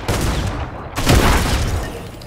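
Loud gunfire from sniper and shotgun weapons in the video game Fortnite, a sharp blast early on followed by a heavier boom about a second later, with reverberating tails and no talking.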